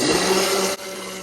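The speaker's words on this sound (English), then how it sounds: "got my immersion blender. Here we go" An immersion blender making mayonnaise gives a steady, dense motor whir with a constant hum, running continuously up close, briefly dipping near the end before resuming.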